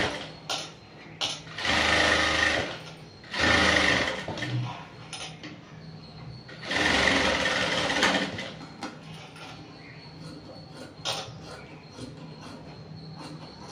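A sewing machine stitching blouse fabric in two or three loud, whirring bursts of a few seconds each. Quieter handling noises and soft talk fill the pauses between bursts.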